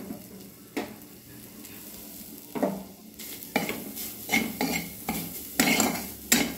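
Grated coconut frying in a little oil in a wok over low flame, a soft steady sizzle broken by repeated scraping stirs and metal spatula knocks that come closer together as it goes on.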